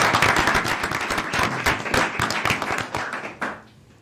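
A city council meeting audience claps and applauds, close uneven bursts of many hands that thin out and fade over the last half second.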